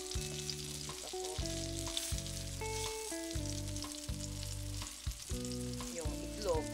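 An egg frying in olive oil in a pan, a steady sizzle with crackling bursts that runs through the whole stretch under louder, intermittent tonal sounds.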